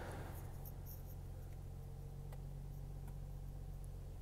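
A Duramax diesel engine idles in a 2020 GMC Sierra, heard from inside the cabin as a faint, steady low hum with no revving or other sounds.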